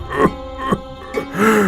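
A man, worn out from working in the fields, coughs and clears his throat several times in short rough bursts, close and fairly loud, with strained groaning breaths between them.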